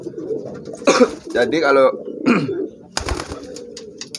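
Pigeons coo close by during training of young squabs, brief soft bursts interleaved with someone speaking over them.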